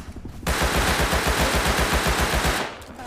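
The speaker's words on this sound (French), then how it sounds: "On me tire dessus." Automatic gunfire in the online survival game Rust, a loud rapid burst of evenly spaced shots lasting about two seconds, close and dense, then stopping abruptly.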